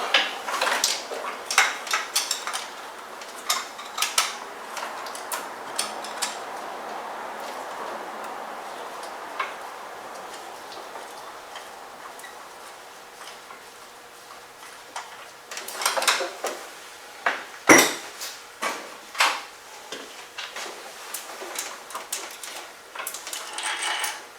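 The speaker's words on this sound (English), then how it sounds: "let's take the guide bolt out" A guide bolt is unscrewed on the engine of a 2007 Range Rover 4.2 Supercharged during a head gasket and valve timing job. Close, irregular metallic ticks and clicks of a wrench or ratchet, with a burst of sharper clinks toward the end, and no talking.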